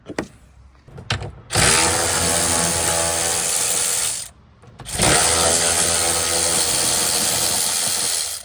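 Power tool loosening 13mm nuts on a Can-Am Defender bed, two loud sustained whirring bursts of several seconds each with a brief pause between, close by.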